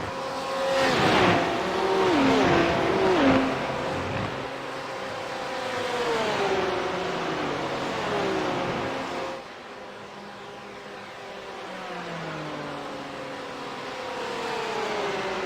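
GT3 race cars lap Spa-Francorchamps in a racing video game, engines screaming and shifting pitch as they rise and fall through gears, with a car passing close early on and fainter engine whine afterward.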